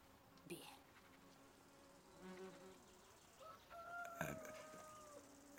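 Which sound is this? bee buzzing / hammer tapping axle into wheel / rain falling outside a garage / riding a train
bee buzzing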